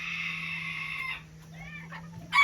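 Small Mini Garnisé bantam chicken in a farm pen, a long, loud crow followed by several softer clucks and chirps over a faint steady hum, ending with another sharp call.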